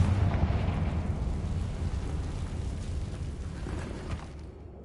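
Confringo explosive spell in the video game Hogwarts Legacy, a rumbling blast with a heavy low boom that slowly fades over several seconds.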